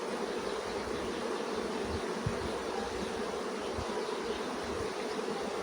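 Honey bees hum around a beehive in a soft, continuous buzzing swarm, fairly faint and steady with a few louder passes close by, no talking.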